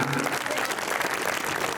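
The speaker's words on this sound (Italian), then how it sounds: "Battete le mani." Concert audience clapping, a dense, even patter of many hands heard from within the crowd and sustained throughout.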